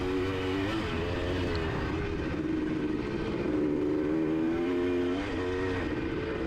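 Motocross dirt bike engine racing across grass in a moto at Ashcraft's, a loud, close, continuous droning whine with wavering pitch as the rider holds speed, no pauses throughout.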